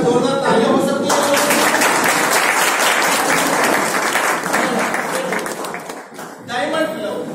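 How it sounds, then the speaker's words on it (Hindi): Loud, dense audience applause at a club gathering that surges in after a brief voice, holds strong for several seconds, then dips as a speaker resumes over it. "एक बार जोरदार तालियां हो सकती है"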